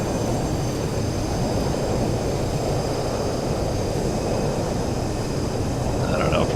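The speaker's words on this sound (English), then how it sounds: "solid on the ground, spoilers up, and thrust reversers on," A simulated Boeing 737-200 in X-Plane 11 roars with thrust reversers deployed and heavy braking after touchdown, a loud, broad, steady rushing engine noise that holds without letup throughout.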